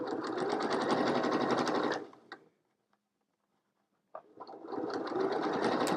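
A sewing machine runs fast through fabric with gray thread, stitching on a Christmas stocking in a loud, rapid mechanical whir, pausing into near silence for about two seconds before starting up again.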